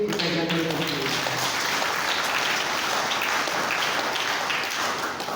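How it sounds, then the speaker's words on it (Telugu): A church congregation claps in thanks for the Onguru choir during a Catholic feast-day Mass for Mother Mary's birth. The applause is steady and dense, sustained for several seconds at a moderate, slightly distant level. "వీరందరికీ గట్టిగా చప్పట్లు కొట్టి కృతజ్ఞతలు."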